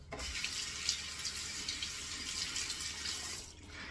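Steady running tap water splashes while shaving lather is rinsed off a OneBlade safety razor at a sink, close and continuous.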